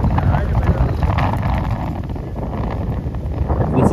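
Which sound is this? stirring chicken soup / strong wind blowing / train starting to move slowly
strong wind blowing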